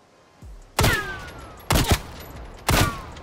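Three loud, sharp weapon shots from Call of Duty: Cold War ring out about a second apart, each leaving a brief ringing tail. A short thump comes just before the first shot.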